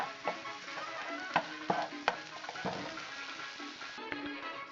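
Sausage browns in a paella pan with a steady, soft sizzle close by, broken by several sharp clinks and scrapes of stirring.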